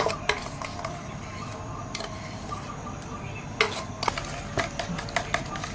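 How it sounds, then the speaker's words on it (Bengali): Sweet and sour yogurt being beaten in a bowl with a hand whisk for Nabadwip kheer doi, a steady soft scraping and rubbing with occasional sharper clinks of metal against the bowl, fairly close and continuous. "এই আমার মিষ্টি দইটা দিয়ে ফেটাচ্ছি"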